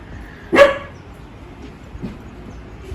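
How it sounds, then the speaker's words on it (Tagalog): A single sharp dog bark rings out close by, followed by faint low sounds and quiet room noise. "pasensya na sa aso namin."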